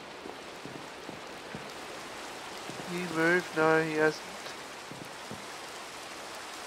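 Steady rain hisses evenly in the horror video game Bendy and the Ink Machine, Chapter 1. A low, constant wash of drops runs throughout, with a brief spoken exchange in the middle.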